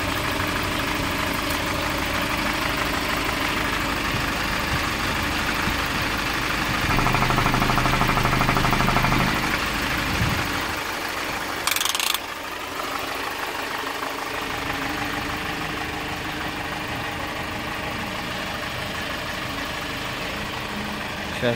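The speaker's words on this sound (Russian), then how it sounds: "Двигатель работает хорошо." The engine of a 2012 Hyundai Porter small truck idles steadily with a low, even rumble, holding a constant note throughout with a brief rise partway through.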